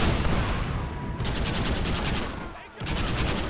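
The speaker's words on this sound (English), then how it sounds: "It's a Gatling gun." Gatling gun firing in a video game, a dense rapid burst of rattling shots, loud and close, with a short dip in the middle before the rapid fire resumes.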